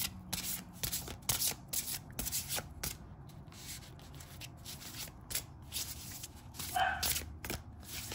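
Tarot cards being shuffled by hand, with continuous rapid riffling and rubbing of the deck and close, busy papery scrapes throughout.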